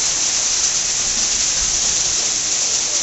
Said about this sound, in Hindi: ओले ही ओले पड़ गए रे बाबा